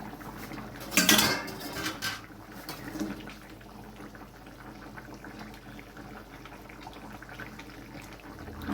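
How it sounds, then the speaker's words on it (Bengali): A metal lid lifts off a pot of boiling cauliflower and potatoes for a prawn curry, a sharp clatter near the one-second mark followed by softer kitchen clinks and quiet bubbling. "এবার আমি ঢাকনাটা খুলে দেখে নিচ্ছি"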